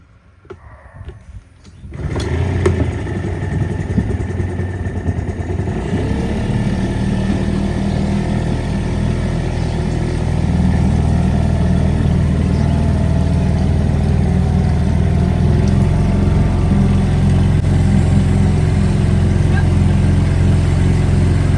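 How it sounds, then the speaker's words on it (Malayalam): A fishing boat's petrol engine is started after a brief quiet moment, then settles into a loud, steady running drone that continues unbroken and close by. "ബോട്ട് സ്റ്റാർട്ട് ചെയ്യാൻ പോവാണ്"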